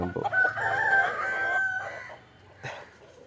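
A native country rooster crows loudly nearby in one drawn-out call, followed by a short cluck from a hen as the sound trails off.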